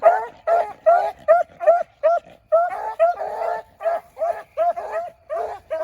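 A pair of hunting bird dogs from a Cadillac Jack bred line bark and yip in rapid, steady bursts out in an open field, loud and close with no talk over them.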